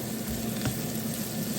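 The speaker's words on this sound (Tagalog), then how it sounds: "stir fry, butter, and mushroom" Mushrooms stir-frying in butter sizzle in a steady, close hiss, with a faint scrape of stirring partway through and no voices.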